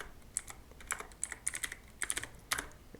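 A command is typed on a computer keyboard, with quick, clicky keystrokes coming in uneven bursts over a few seconds, close and clear, with no talking.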